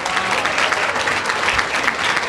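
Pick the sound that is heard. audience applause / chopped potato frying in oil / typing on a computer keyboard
audience applause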